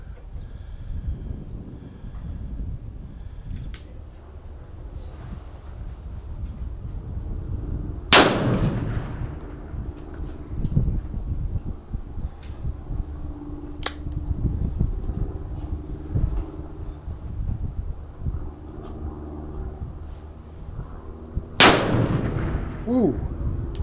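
Two sharp, loud gunshots from a Colt Walker .44 revolver ring out about thirteen seconds apart, each with a short echoing tail, over a steady outdoor breeze and background rumble.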